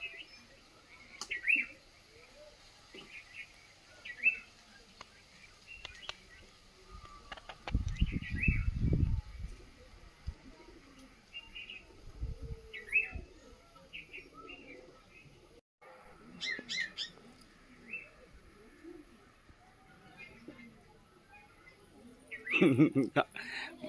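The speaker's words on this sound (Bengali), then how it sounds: "পায়রাগুলো খুব সুন্দর বসে আছে" Two white pigeons and other birds outdoors near a garden, with faint repeated chirps and calls over quiet background rustling and a few low thumps.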